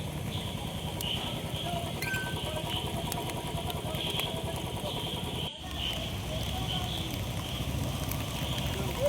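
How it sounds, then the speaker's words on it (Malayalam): Several motorcycles of a bike rally idle and rev steadily after rain, a continuous close engine drone with faint background voices. "പിന്നെ മഴയൊന്നും വകവയ്ക്കാണ്ട് വീണ്ടും ബൈക്ക് റാലി ആരംഭിച്ചു കാട്ടിലപ്പള്ളിയിലേക്ക്"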